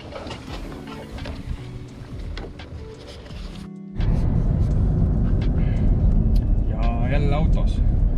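Steady engine and road rumble inside a moving car, a quieter stretch giving way after a brief cut to a louder, fuller drone, with people talking throughout.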